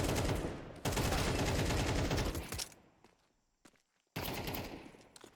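Dense pistol gunfire and grenade blasts from a competitive Counter-Strike match, a loud continuous burst of shots that breaks off, then a few scattered pops before another loud volley.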